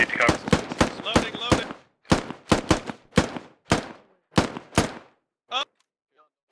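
Gunfire from a squad fire team bounding in training: about a dozen sharp, loud shots in an irregular string, with a shouted voice and a brief pause before a final faint pop.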